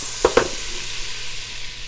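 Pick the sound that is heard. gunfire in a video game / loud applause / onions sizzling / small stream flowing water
onions sizzling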